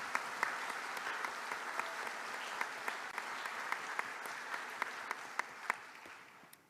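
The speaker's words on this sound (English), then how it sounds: "Let's give these 6 faculty members a round of applause" A large crowd at a university convocation applauds in a steady wash of clapping, with a few sharper individual claps standing out before it fades at the end.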